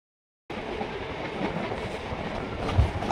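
A Kolkata local train near Prinsep Ghat rumbles in after a brief silence, its carriages running with a loud, steady roar and rattling wheels close by.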